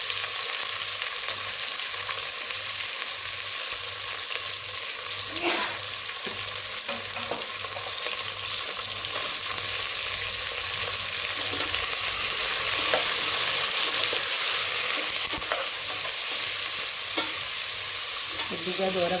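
Finely sliced onions and green chillies fry in a pan with a continuous loud hiss, broken by occasional scraping stirs and a faint low hum beneath.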